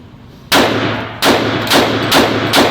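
Loud pistol shots from a Kimber 1911 .45 ACP and a Beretta PX4 subcompact 9mm at an outdoor range, five sharp bangs at irregular intervals, each followed by a short ringing decay.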